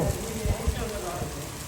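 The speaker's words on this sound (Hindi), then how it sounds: "बारिश देखे एकदम से ऐसी तेज आई है" Steady, dense rain hisses and patters close by, a continuous wash of falling water with a few louder thumps.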